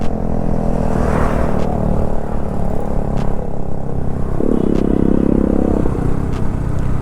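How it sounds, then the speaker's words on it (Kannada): A motorcycle with a damaged silencer rumbles loudly and continuously with a rough, rattly edge, a brief harsher burst rising midway before settling back. "ಈ ಬೈಕಿನ ಸೈಲೆನ್ಸರ್ ಹೊಟ್ಟೆ ಆಗಿದೆ ಕಾಣ್ತದೆ, ಸಿಕ್ಕಾಪಟ್ಟೆ ಸೌಂಡ್ ಬರ್ತಾ ಉಂಟು ಮುಂದಿದು"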